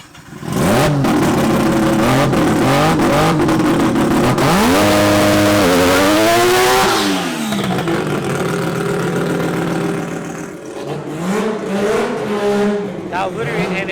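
A 900hp Mazda RX-7 drag car revs hard alongside a Ferrari in a drag race, engines climbing through loud rising gears then easing off, with a voice talking over the roar.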